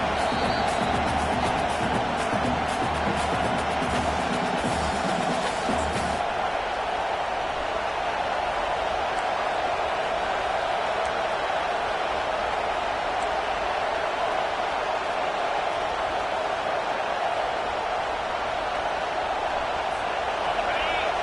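A football stadium crowd roars steadily late in the fourth quarter as the home fans rally behind their defense on fourth down, a dense, sustained wash of noise with a commentator talking over it.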